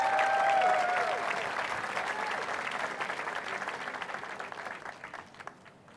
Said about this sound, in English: Can we give Castor one more round of applause?